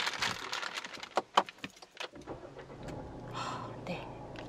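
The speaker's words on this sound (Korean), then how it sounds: "그리고 시동 한번 켜볼게요." A used four-wheel-drive diesel SUV with 89,721 km: keys jangle and click briefly, then the engine starts and settles into a low, steady idle, with faint whispered talk nearby.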